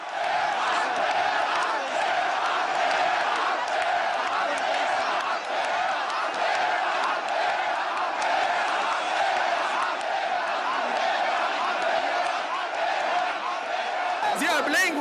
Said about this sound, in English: Suddenly a change in the crowd from attentive silence to deafening roars of "Go!